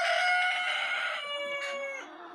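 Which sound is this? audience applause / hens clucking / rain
hens clucking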